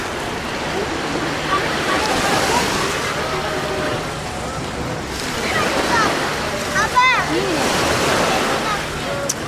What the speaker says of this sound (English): So yeah, this is Phra Nang Beach.